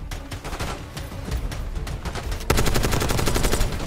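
Rapid automatic gunfire in a Call of Duty 6 firefight, dense repeated shots that grow louder and more continuous partway through, with no talk.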